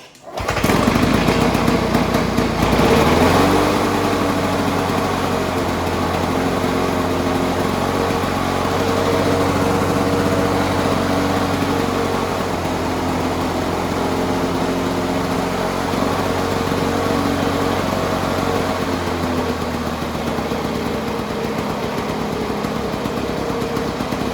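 A small two-stroke lawn mower engine, just revived after sitting unused a long time, starts up and runs steadily and loud at close range with no talking over it.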